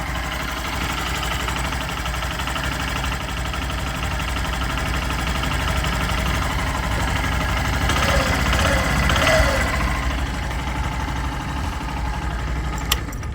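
A Honda Shine DX 100cc motorcycle engine runs at a steady idle nearby, an even low hum and patter that holds without change throughout.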